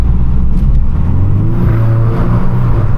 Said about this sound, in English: Hear that little DSG fart there?